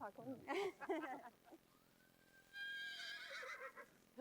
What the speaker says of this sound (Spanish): ¿Eso que suena es un caballo Schäner?